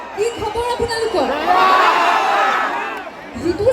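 A college crowd at a freshers' welcome event bursts into loud, sustained shouting and cheering, with whoops rising over a dense roar before fading as a voice talks at the edges.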